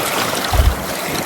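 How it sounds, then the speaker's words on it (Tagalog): Strong wind buffets the microphone in a low, steady rush, with a louder gust swelling briefly in the middle. "Medyo malakas nga po palang hangin."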